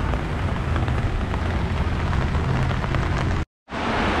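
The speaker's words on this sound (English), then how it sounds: "It is raining out here." Rain pours steadily onto a town street in Guatapé, Colombia, a dense, loud wash of drops hitting surfaces that cuts out briefly near the end and then resumes.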